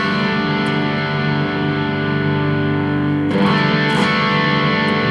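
A distorted electric guitar through an overdrive pedal sustains a thick overdriven chord, then a fresh strum rings out near the end, loud and saturated.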